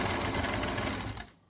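A sewing machine stitches a straight seam on shalwar fabric, a steady fast mechanical whirr running continuously up close before winding down and stopping near the end.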